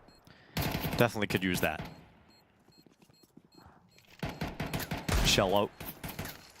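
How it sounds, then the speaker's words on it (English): Rapid gunfire bursts and footsteps sound in a Counter-Strike esports match at PGL Bucharest 2025, with players talking over the shots. "The bullets whizzing past him, steps pittering and pattering towards him"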